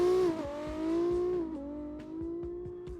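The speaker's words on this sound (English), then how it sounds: "We got more revving, and he's off." A drift car's engine revs hard at the start line of a drift championship qualifying round, rising and falling in pitch, heard from a distance without voices.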